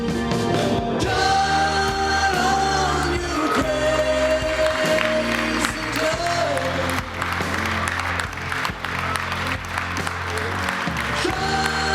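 A crowd at the Salt Lake City International Airport Phase 3 grand opening press conference claps and cheers over music, the applause rolling on loudly throughout.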